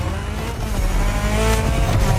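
A rally car races in The Crew Motorfest on PS5, its engine droning loud and steady with a rising pitch as it heads for a dirt section.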